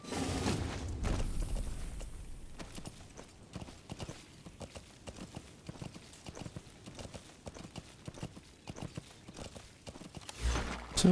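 Steady clip-clop of D-Horse's hooves in Metal Gear Solid V: The Phantom Pain, a regular galloping rhythm of hoof strikes running throughout at moderate loudness, with no talking.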